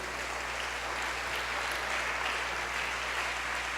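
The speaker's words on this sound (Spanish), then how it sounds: "Démosle ese aplauso al Señor" A church congregation applauds together, producing a steady, diffuse wash of clapping that sounds faint and distant, with a low electrical hum underneath throughout.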